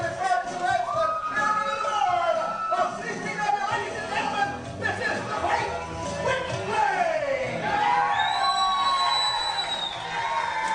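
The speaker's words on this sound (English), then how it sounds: "listen to this crowd in Kaiser, West Virginia." A wrestling crowd in Kaiser, West Virginia chatters, cheers and whoops throughout, a busy indoor mix of voices at moderate level with excited shouts rising toward the end.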